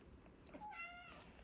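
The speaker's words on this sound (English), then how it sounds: "Be careful, kitty." A cat gives a single short meow, faint and somewhat distant over a quiet indoor background.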